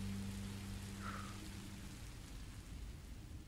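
Steady rain falls in the video game Minecraft Story Mode, a continuous soft hiss of drops under a low background hum, with no one speaking.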